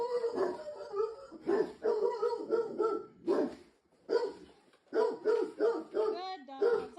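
A dog barks in short, repeated bursts mixed with high whimpers and yips, close and loud throughout, with the barks coming in uneven clusters and no talking heard.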